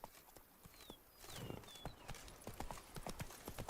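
Roach the horse's hooves in The Witcher 3 video game, a steady clip-clop of hoofbeats on the ground, quiet, with birdsong chirping in the background.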